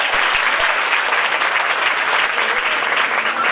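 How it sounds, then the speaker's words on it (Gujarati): An audience claps for children at a devotional stage programme, a dense steady burst of applause at full volume that fills the whole span. "થોડી તાળી ખાલી બસ બાળકો માટે"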